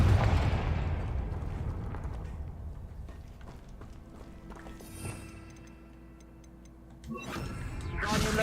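Fiery Confringo spell blasts in a Harry Potter video game, with explosive bursts near the start and again around seven seconds, a lingering magical hum between them, and no talk over it.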